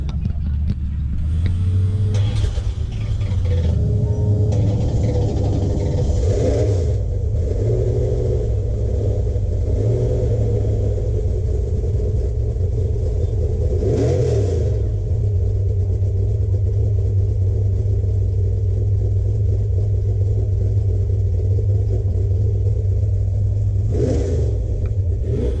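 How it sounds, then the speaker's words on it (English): A 1967 Plymouth GTX race car, the "Silver Bullet," on Woodward Ave: the engine fires and settles into a loud, close, rough rumbling idle, with several sharp revs blipping above it over about twenty-five seconds. "And this is what race car starting is all about."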